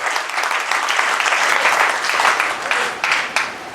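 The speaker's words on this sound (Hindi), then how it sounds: "एक बार जोरदार तालियां हो जाए" Loud, sustained clapping from a gathered audience at a meeting, a thick wash of many hands that holds steady and then tapers slightly with a few stray claps near the end.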